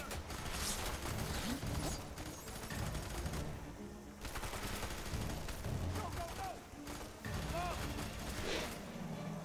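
A boss's heavy gun fires sustained, rattling bursts in the shooter game F.E.A.R. 3, dense and loud with brief lulls, mixed with mechanical clatter and a player talking over it.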